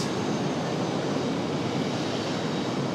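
An American Airlines Boeing 737 makes a long takeoff roll at Raleigh-Durham airport, its jet engines producing a steady, broadband roar heard from a distance that holds evenly throughout, with no voices.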